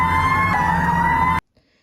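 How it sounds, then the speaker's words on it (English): A real fire truck siren wails loud and close as a steady sustained tone for over a second, then cuts off abruptly into near silence. "Siren. Hear that sound and see that flashing?"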